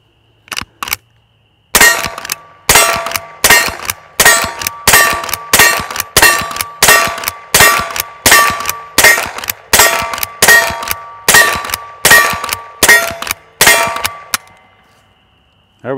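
A Henry H001 lever-action .22 rifle fires .22 long rounds in a fast, steady string of about seventeen sharp, loud cracks, each followed by the clack of the lever cycling, with no talking.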